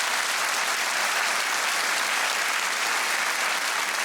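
A television studio audience applauding at a comedy talk show, steady dense clapping from a large crowd that holds at an even level throughout.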